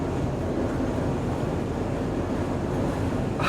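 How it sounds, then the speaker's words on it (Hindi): Strong wind roars across open fields, blowing dust in dangerous high winds, a loud, steady, unbroken rush buffeting the microphone throughout with no voices. "अरे इतनी तेज हवा"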